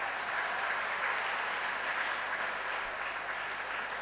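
A school annual day audience claps, a dense, steady wash of applause that stays even and fairly loud for the whole stretch, with no voices over it.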